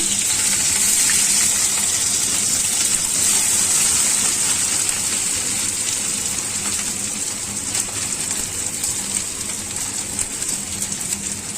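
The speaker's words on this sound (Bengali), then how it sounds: "এখানে পেঁয়াজটা ভাজা হচ্ছে" Onions frying in oil in a wok set over a gas flame for mutton biryani: a steady, loud, broadband sizzle and hiss that continues evenly throughout with no talking.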